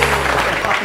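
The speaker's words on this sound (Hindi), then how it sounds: "बहुत सारी तालियां" Studio audience applauding at a television morning show, a brief dense patter of claps over a low hum, with voices faintly mixed in.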